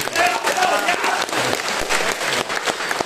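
An audience at a live comedy show breaks into loud, sustained applause, a dense crackle of clapping from a full room that runs throughout, with voices mixed in.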